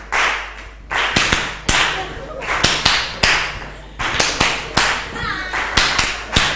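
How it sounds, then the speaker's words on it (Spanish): Flamenco palmas handclapping at a talk on flamenco cante and its palos, sharp claps in a rhythmic pattern with irregular accents, fairly close, over a steady low hum with voices murmuring underneath. "Haced palmas."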